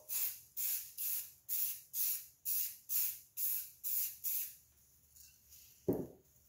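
Short bursts of spray paint hiss from an aerosol can as another coat goes onto a gun magwell, about nine rapid evenly spaced puffs up close, then quiet handling and a brief thump.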